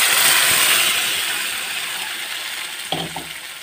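Turmeric, paneer masala, coriander and chili powders fry in a pan for mutter paneer, giving a bright hissing sizzle that slowly fades, with a brief utensil clatter near the end.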